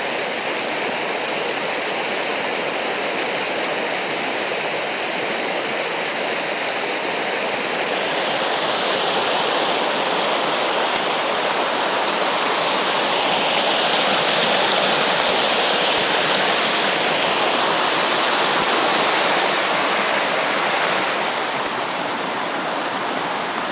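Water in a stream rushes steadily at a swimming hole, a loud, even broadband wash that swells slightly midway and carries on without pause or voices.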